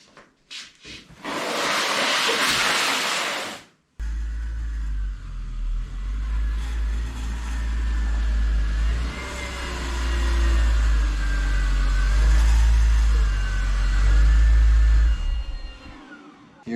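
A 2001 BMW 330xi engine idles and rumbles at close range as the car is pulled into a garage, with a steady low drone that swells slightly, after a short burst of broadband noise at the start.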